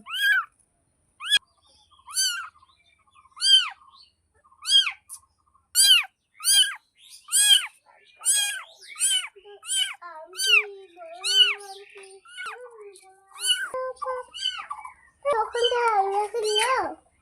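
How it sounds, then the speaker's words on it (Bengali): A newborn kitten on a rooftop meows repeatedly for its mother, a steady run of high, thin cries close by, with a person speaking softly near the end. "দেখো ওর মাকে ডাকছে, ওর মাকে খুঁজছে।"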